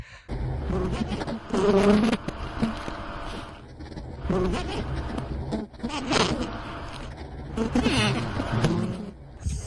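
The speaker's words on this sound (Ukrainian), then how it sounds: "Ми чуємо, як бджоли гудуть" Honeybees in a winter hive give off a low buzzing hum with fluctuating swells, heard close alongside rustling and handling noises, while someone talks over it.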